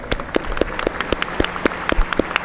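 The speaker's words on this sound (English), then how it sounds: "I want to give her a round of applause" A small conference audience claps, giving sparse, distinct individual claps in an uneven rhythm, fairly close and moderately loud, with no speech over it.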